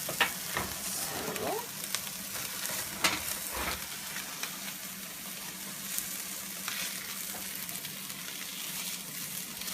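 Curry spicy mustard white fish fries in a pan with a steady, close crackling sizzle across the whole stretch, punctuated by a few sharper pops and spits, with no talking.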